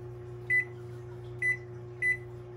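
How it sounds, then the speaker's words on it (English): An electric oven's control panel gives three short, clear electronic beeps while being set to preheat to 450 degrees for baking, heard close over a steady low appliance hum. "I'm going to preheat my oven to 450."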